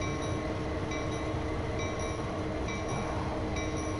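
Train running in Train Sim World 2, a railway simulator game: a steady, loud rolling rumble with a sustained engine hum and faint periodic high tones, continuous and alone with no talking.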